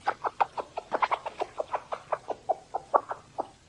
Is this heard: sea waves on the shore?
no